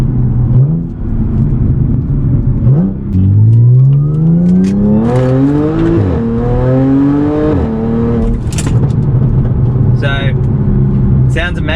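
Car with a muffler delete revving and accelerating, loud raspy exhaust rising in pitch through gears, droning close by, with a person speaking over it.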